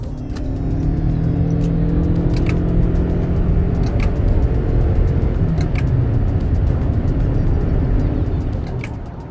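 A Toyota Camry hybrid accelerates hard in sport mode, its engine a loud, steady drone with rising tones and road and wind roar building throughout, heard from inside the cabin with no talk.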